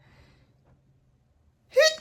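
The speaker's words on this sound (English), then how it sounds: "Now I am gonna sneeze." A single sudden sneeze bursts out close and loud near the end, after a stretch of near silence in which someone tries to stifle it by holding their nose; it is brought on by summer hay fever.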